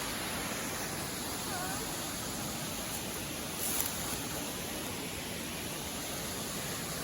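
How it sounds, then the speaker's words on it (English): A small waterfall at a creek below a bluff gives a steady, even hiss of falling water that stays constant throughout, with a brief faint clatter near the middle. "This is our waterfall."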